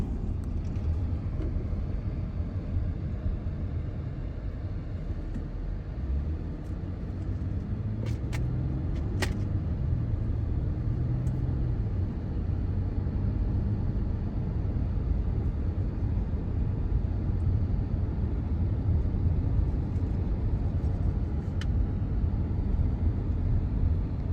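A car driving along the Esplanade beach road in South Redondo Beach, a steady low engine and road rumble heard from inside the vehicle, with a few faint brief clicks midway.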